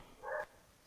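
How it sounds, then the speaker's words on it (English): A dog gives a single short bark, faint and somewhat distant over a quiet, low background. "Is that your dog?"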